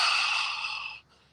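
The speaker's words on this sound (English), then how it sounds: "I usually use my Ujjayi breathing, which sounds a lot like you're trying to fog up a mirror" Ujjayi yoga breathing drawn through a closed mouth, heard as a single soft, hissing, mirror-fogging breath lasting about a second before it cuts off, close and quiet with no speech.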